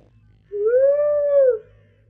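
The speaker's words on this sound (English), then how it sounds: "Christ, I hear a dog." A single dog howl from the video game Sir, You Are Being Hunted, one smooth rising-then-falling tone about a second long, moderately close against a quiet low ambient hum.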